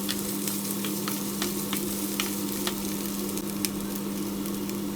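Chopped peppers sizzling and frying in a hot pot, a steady crackling hiss with occasional stirring clinks.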